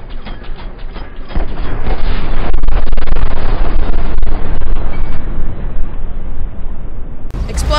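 A video game explosion in GTA 5 bursts into a loud, rumbling blast that swells and lingers as a dense roar for several seconds before fading, with voices chattering faintly in the background.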